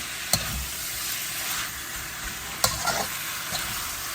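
Farm-raised mutton fries in a pot on the stove while being stirred, a continuous close sizzle broken by a couple of sharp spoon knocks against the pot and soft scraping stirs, with no talking.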